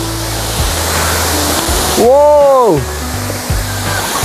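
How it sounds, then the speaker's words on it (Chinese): Songlongyan waterfall in the Shanlinxi forest of Nantou, Taiwan, roars as a loud, steady wash of broadband noise throughout, with a brief excited exclamation from a visitor partway through. "终于到松龙部落的松龙岩瀑布"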